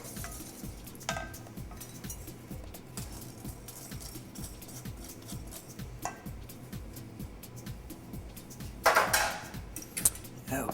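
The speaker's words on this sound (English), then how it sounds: "I like to stir it for another minute to kind of cool it down a bit." Melted chocolate stirred in a pot just off the stove, heard as a steady, rhythmic scraping swirl that repeats close by, with a brief brighter clatter near the end.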